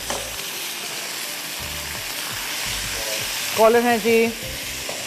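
Garlic frying with mustard in a pan, a steady close sizzle with occasional stirring scrapes, and a brief voice speaking over it near the end.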